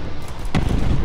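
Artillery shell landing in the VR multiplayer war game War Dust, a single broadband boom about midway through that rumbles on over a steady low battlefield din.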